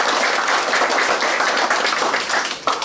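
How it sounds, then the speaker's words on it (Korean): Applause from an audience at a Korean amateur radio federation ceremony, greeting a newly inaugurated chairman; dense, steady clapping fills the room, continuous and fairly loud throughout. "큰 박수로 축하드립니다"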